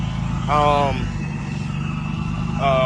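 A loud supercharged Nissan Maxima engine runs steadily with a deep low rumble, and brief harmonic whines rise twice over it; a person talks nearby.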